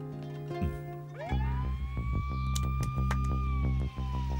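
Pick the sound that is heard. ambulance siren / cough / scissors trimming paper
ambulance siren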